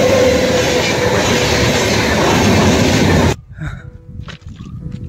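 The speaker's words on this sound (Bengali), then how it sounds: "এত ট্রেন আসে নাকি ভাই" A train rolls past on railway tracks with a loud, close, rushing roar and rattle of wagons. It cuts off abruptly to quieter surroundings near the end.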